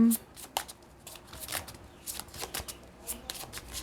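Tarot cards are shuffled by hand during a reading, giving quick riffling bursts and soft slaps in an uneven rhythm, close and fairly quiet, with a faint voice in the background.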